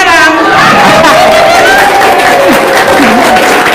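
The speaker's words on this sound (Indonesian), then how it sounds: "Tepuk tangan Pak yang keras." An audience claps loudly and steadily throughout, the dense applause blending with crowd chatter and a few voices rising above it.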